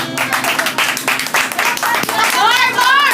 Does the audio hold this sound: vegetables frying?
no